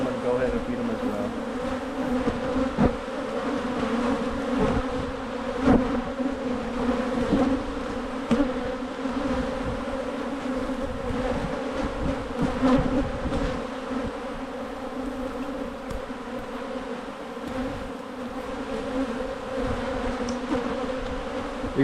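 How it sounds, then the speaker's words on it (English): Honey bee colonies hum in a dense, continuous buzz during early spring hive management, close and steady throughout, with scattered clicks and handling noises mixed in. "These bee colonies are looking beautiful."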